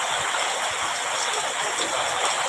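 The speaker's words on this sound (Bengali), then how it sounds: "অনেক বৃষ্টি হইতেছে" Heavy rain pours over a village as a dense, even hiss that stays steady throughout, with no voices.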